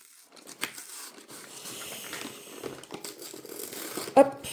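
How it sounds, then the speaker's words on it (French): Scissors cut and tear through a tightly sealed cardboard box, giving a steady crinkling, scraping rasp close to the microphone over about four seconds, with a sharper snip near the end. "Alors, il faut y aller à coup de ciseaux. C'est vraiment très très bien scellé."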